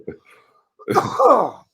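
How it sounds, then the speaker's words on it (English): A short throat-clearing followed by a harsh, raspy cough up close, loud and brief. "so I apologize for the cough"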